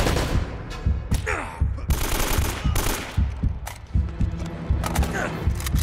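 Gunfire in the game Uncharted: Drake's Fortune Remastered: loud, close bursts of automatic fire and single shots crack in rapid, irregular succession throughout, with brief gaps between volleys.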